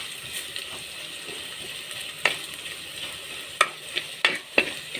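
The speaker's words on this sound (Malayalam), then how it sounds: "മഞ്ഞൾപ്പൊടി ചേർത്ത് നന്നായി ഇളക്കി കൊടുക്കുക" Turmeric-spiced masala stirred in a frying pan for a Palakkad-style sardine chilli curry, a soft steady sizzle broken by several sharp spoon scrapes and taps near the end, close and without talk.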